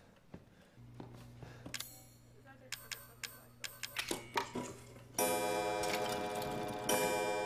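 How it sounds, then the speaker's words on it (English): A clock pendulum in Resident Evil 7 ticks in a slow, steady rhythm that builds to louder clicks, before a bright ringing tone fills the last few seconds over a low hum. "A clock pendulum."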